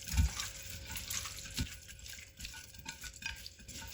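Meat is mixed by hand with a little yogurt, producing soft wet squelching and slapping in an uneven rhythm, close and quiet, with a bump or two of a bowl and no talking.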